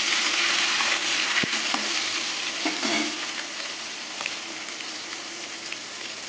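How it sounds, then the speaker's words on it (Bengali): Potatoes frying in hot oil in a pan, with raw banana and bay leaf in a Bengali fish curry preparation, giving a dense, loud, steady sizzle with a few faint clinks and no talk. "নুন দিয়ে আলুটাকে ঢেকে ঢেকে ভেজে নেব"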